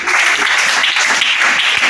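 A church congregation applauding together, a dense, steady wash of clapping that fills the whole moment with no pause.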